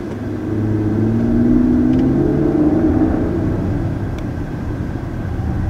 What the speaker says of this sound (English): that off-the-line power is really good. I mean, that was 30 in just like 3 seconds